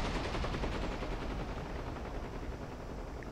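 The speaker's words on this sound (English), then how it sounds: "I know this FW-190 has some pretty salty guns, but... Oh, he opened up!" Aircraft cannon and machine guns of an FW-190 fighter in the DCS combat flight simulator hammer out a dense, continuous roar of rapid fire, loud and steady, slowly easing over a few seconds, with no voices.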